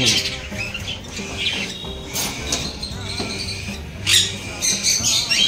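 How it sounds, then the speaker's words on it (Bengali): A lively mix of chirps, squawks and short calls from young lutino cockatiels in a crowded aviary, several birds calling at once, some close and sharp, others softer in the background. "দেখো এই যে বাচ্চা লুটিনো ককাটেলের"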